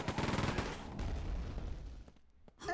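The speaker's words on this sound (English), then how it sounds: "He's using this chain gun for everything it's worth." Rapid automatic gunfire from a chain gun in Quake II, a dense rattling burst of shots that runs loud for about two seconds before fading, with a brief renewed burst at the end.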